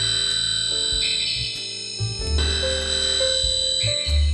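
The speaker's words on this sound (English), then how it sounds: "Square Wells." Amazon Echo smart speaker playing its "Square Wells" alarm tone, a bright electronic melody of repeating chime-like notes over a low pulsing bass, steady and close for several seconds with no talking.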